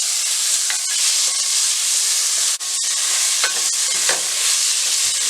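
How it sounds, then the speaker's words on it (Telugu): Two chopped tomatoes sizzle in hot oil with mustard seeds and dried red chillies, giving a loud, continuous hiss with faint pops and stirring scrapes, close up, with no talking. "ఇలా కట్ చేసుకున్న 2 టమాటాస్ వేసుకొని ఉడికించుకోవాలి."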